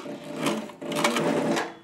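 A Cobra Class 26 leatherworking sewing machine stitches thick material, its motor whirring under load with a quick rhythmic needle thumping and a short pause between two bursts.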